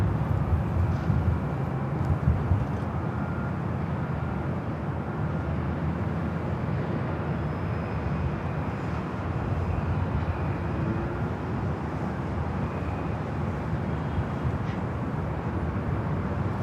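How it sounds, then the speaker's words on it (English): An Airbus A380 flies near LAX airport, a broad, steady roar that holds evenly throughout, with no voices over it. "Let's head up to the A380 Super on the downwind leg."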